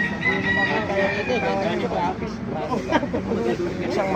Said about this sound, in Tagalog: Maganda ng manok oh.